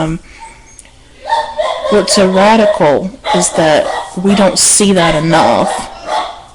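A dog barks indoors in repeated short yaps somewhere in the home, largely under a person talking steadily close by.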